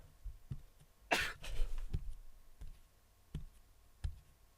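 A man coughs in the horror game Ib, a sharp burst of coughing followed by a few fainter, spaced ticks and clicks against a quiet background.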